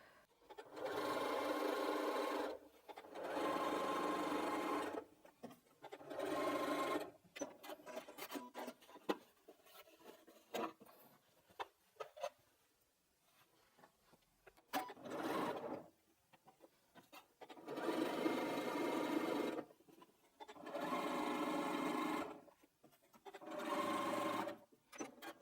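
Domestic sewing machine stitching strips of patchwork fabric for a pumpkin pinwheel block, running in several steady bursts of a few seconds each with short pauses and small rustles of fabric between.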